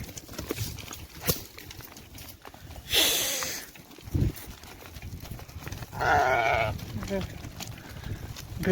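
A mixed flock of sheep and goats bleats in an outdoor pen in Saudi Arabia, a couple of loud nearby cries standing out among hoof shuffling and rustling, with someone talking throughout.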